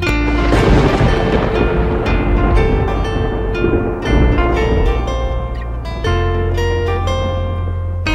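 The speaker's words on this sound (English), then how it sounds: "I hear thunder, oh don't you, oh don't you." A thunder sound effect within a children's nursery rhyme about thunder and rain, heard as a loud, sustained rumble blended with music and rainy noise across the whole stretch, with no speech.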